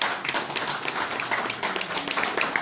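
Audience at a dinner-debate claps steadily throughout, a dense, close round of hand claps with no voices over it.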